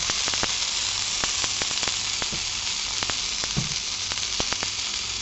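Goanna meat fries in oil in a pan with a steady, dense sizzle and scattered sharp pops and crackles, close and continuous throughout.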